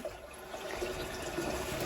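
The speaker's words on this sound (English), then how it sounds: "And then we can turn the water back on." Water running back into a toilet cistern after a plumbing repair, a steady close trickle and rush of refilling that holds at an even level with no talk.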